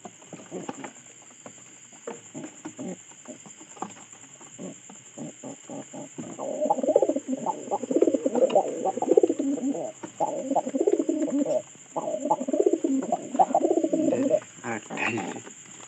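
Pigeons cooing in repeated soft, throaty bursts, close and fairly loud, with faint pattering and a steady high electronic hum in the background.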